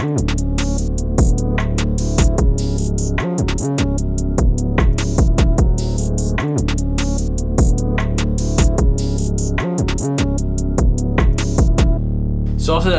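A full UK drill beat plays loud and close: sliding 808 bass and kicks, rapid skittering hi-hats and snares, and a looping melody running steadily throughout with no talking.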